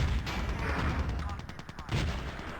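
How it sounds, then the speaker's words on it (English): An artillery strike lands in a Battlefield-style video game match: a dense, rumbling barrage of booming blasts and crackling gunfire, loud and continuous for a few seconds with a fresh swell near the end. "Artillery is going to hit."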